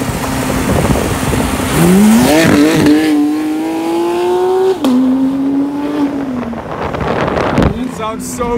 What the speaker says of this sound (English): Oh my God, Steven's car is so loud